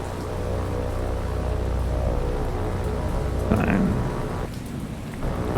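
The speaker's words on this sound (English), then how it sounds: "Coming into the rain, the wind." Steady rain and gusting wind wash loudly across the open sea in the naval combat game War on the Sea, with a low rumble swelling partway through and no talking.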